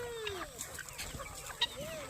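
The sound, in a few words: chickens clucking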